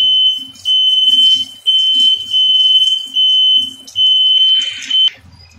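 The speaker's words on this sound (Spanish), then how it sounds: "Ya se nos prendió la alarma." A smoke alarm beeps in a home kitchen while homemade burgers cook, sounding a loud, piercing tone in repeated long pulses, about six in a row, with faint kitchen noises between them.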